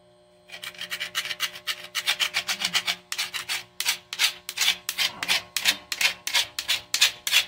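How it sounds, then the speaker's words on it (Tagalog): Vigorous back-and-forth scrubbing on a dirty kitchen shelf, loud and close, with a steady fast rhythm of rasping strokes that keeps going after a short start. "Kuskusin natin yun."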